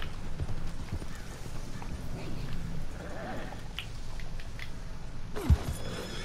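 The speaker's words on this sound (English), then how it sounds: "My horse literally jumped." Horse hooves clip-clopping in Red Dead Redemption II, a steady run of hoofbeats over a low ambient bed, with a sharp thump near the end.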